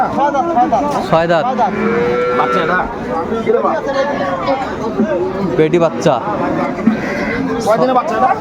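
Dairy cows and calves moo repeatedly at the Aftabganj cattle market in Dinajpur, some close and some farther off, over busy crowd chatter and shouting.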